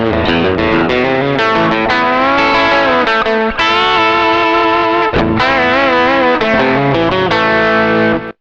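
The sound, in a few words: guitar through Tech 21 RK5 Fly Rig compressor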